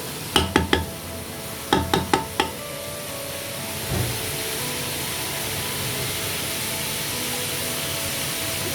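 Vegetables stir-frying in a pan for chicken vegetable spaghetti: a few quick metallic taps at the start, then a steady, close hiss of sizzling that holds for several seconds without any talk.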